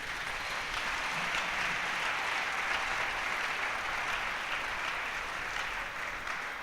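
Church congregation applauding to acclaim the Lord during a sermon, a steady, even wash of many hands clapping at moderate volume that continues throughout without a voice over it.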